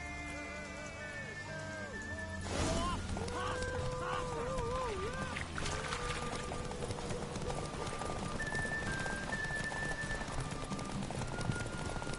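Horses race in The Witcher 3, their hooves clip-clopping in a continuous galloping rhythm under the game's music and ambient sound, with people talking over it.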